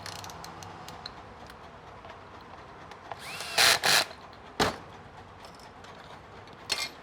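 Brief whirring bursts of a power driver run a screw back into the motor of a 2020 BMW S1000RR motorcycle, with a few quieter clicks and creaks between the short runs.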